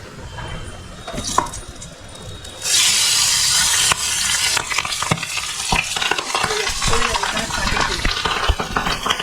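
Pabda fish dropped into hot oil, the frying bursting into a bright, loud sizzle partway through, with stirring clatter and crackling close by.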